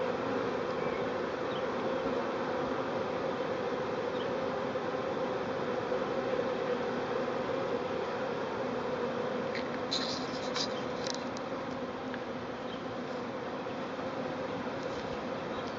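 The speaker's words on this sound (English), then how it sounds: "Quite a few bees, really." An outdoor swarm of bees, fanning and settling into a new home, gives a steady, dense buzz for the whole stretch, with a few nearer bees passing close by partway through.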